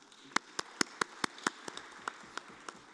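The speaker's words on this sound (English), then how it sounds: "a round of applause to the panelists" Sparse, separate hand claps from a small conference audience applauding panelists, about a dozen sharp claps at an uneven rhythm that thin out toward the end over a quiet room.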